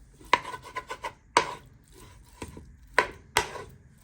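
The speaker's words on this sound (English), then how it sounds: "So you want to put all your pork steaks in your pan. And with a wooden spoon, you want to start breaking them apart." A wooden spoon scrapes and knocks against a pan as it breaks apart pork steaks, giving sharp clacks and rasping scrapes in an uneven rhythm, close up and clear with no talk.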